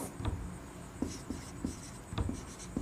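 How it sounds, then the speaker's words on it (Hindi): A pen writing a math formula on paper, faint close scratching strokes and taps in irregular short bursts, with no talk. "तो चलिए लिखते हैं कॉस ए का फॉर्मूला"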